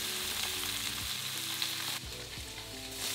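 Salmon fillets and chopped onion fry in a pan with a dense, continuous sizzle that stays close and even throughout, with a slight dip partway through.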